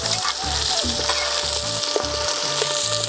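Onion and green chilies fry in oil over a village wood fire, making a loud, dense sizzle that runs the whole time. A steady rhythmic thumping pulses beneath it.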